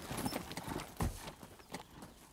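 Horse hooves clip-clop in a steady rhythm in a Western film scene, close and fairly loud over a busy background, with no clear speech.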